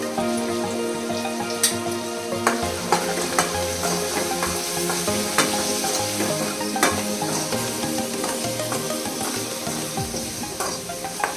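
Raw mango palya with garam masala sizzling in a pan, a steady frying hiss broken by scraping stirs and light clinks of a spoon against the metal, close and without talk.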